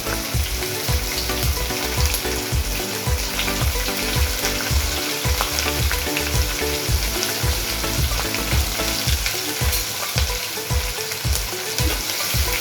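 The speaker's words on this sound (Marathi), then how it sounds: "आपला लसूण लालसर झालेला आहे आता त्याच्यात जाणार हिरवी मिरची" Green chillies frying with reddened garlic and curry leaves in a pan, a steady loud sizzle with repeated scraping stir strokes throughout, no voices.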